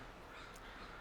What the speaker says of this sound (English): If you can hear all the birds behind me, they're actually all chasing an eagle,